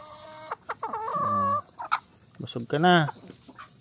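Pet chickens cluck softly at close range in short, repeated calls, with a longer drawn-out cluck in the middle, while a person speaks briefly among them.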